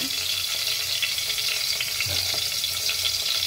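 Garlic and onion sizzle in hot oil in a pan as the base for pork sinigang, a close, steady crackling hiss with occasional soft stirring scrapes.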